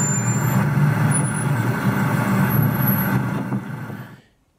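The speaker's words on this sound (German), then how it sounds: "unglaublich chaotisch der Verkehr in Paris" Heavy trucks and cars rumble steadily through chaotic Paris street traffic, a loud, continuous engine drone with hissing accents that cuts off abruptly at the end.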